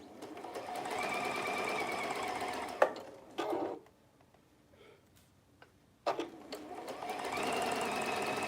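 A sewing machine stitches gathered fabric in two fast whirring runs, broken by a short pause with a few clicks, close and steady with no talk.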